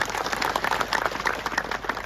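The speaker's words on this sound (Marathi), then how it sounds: "टाळ्या बाजून स्वागत केलं जाईल" A crowd applauds to welcome a guest at a political rally, a steady wash of many hands clapping throughout, fairly close and even in level.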